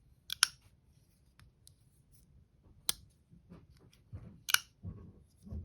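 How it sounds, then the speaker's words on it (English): A Spyderco Para 3 lightweight folding knife gives several sharp, crisp clicks and snaps from its lock, spaced apart with quiet handling noise between them, close to the listener. "Nice loud click."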